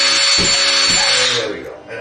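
A power drill bores a hole into a wall, a loud steady high-pitched whine that holds for over a second and then winds down and fades at the end.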